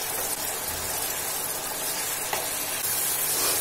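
Tomatoes and spices sizzle steadily in hot oil in a pan for spiced dry black chickpeas, a dense continuous crackle with faint stirring, close and fairly loud, no voices.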